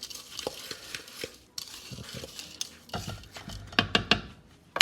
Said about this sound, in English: Mix this together really well. You want it to get saturated with the butter and the sugar mixture.